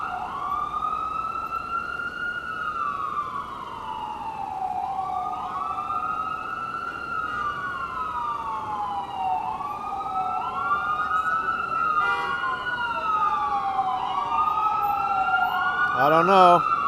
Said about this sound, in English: You think this ambulance will get through in time?